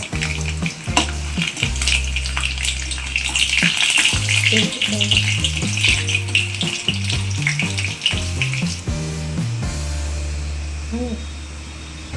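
Garlic and mustard seeds frying in hot oil in a home kitchen, a busy crackling sizzle with rhythmic clatter of a spatula stirring, loud and close, easing toward the end.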